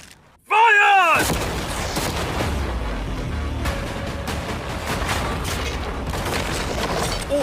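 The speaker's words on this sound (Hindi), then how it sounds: "ठीक है शॉन, अब हम तुम्हारी नई यॉट पर कैनन्स को शूट करने वाले हैं।" Cannons in a video game firing at a yacht, heavy booming blasts and rumbling impacts that keep going for several seconds, with a voice heard near the start.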